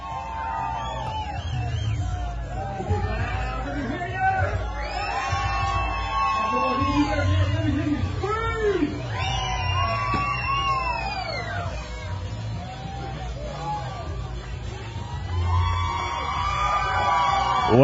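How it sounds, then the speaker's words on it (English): A crowd at a college fishing tournament weigh-in yells, whoops and screams continuously over loud amplified talk, the cheering swelling in waves throughout. "You guys can keep screaming."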